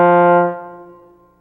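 Trombone sounding a tongued F, close and loud, a bright harmonic tone that decays smoothly over about a second.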